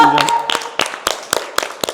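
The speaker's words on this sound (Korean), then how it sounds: "아, 박수" Several sharp hand claps ring out at irregular intervals, loud and close, mixed with brief voices after a won team game on a Korean variety show.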